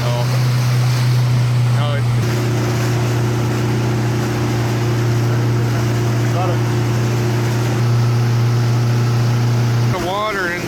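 A small motorboat engine drones steadily and loudly at close range on open coastal water near Anyox, British Columbia, with a brief spoken exchange over the hum.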